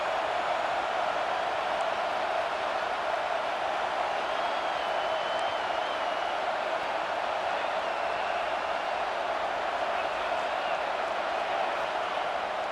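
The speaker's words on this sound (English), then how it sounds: "Decibels rising as the crowd gets behind this defense on third down." Stadium crowd in College Football 26 roars steadily on a third-down defensive stand, a dense, continuous wash of cheering noise that holds at an even level throughout.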